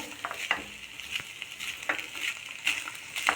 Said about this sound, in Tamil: ஒரு டூ மினிட்ஸ் நல்லா கிளறி கொடுத்துடலாம்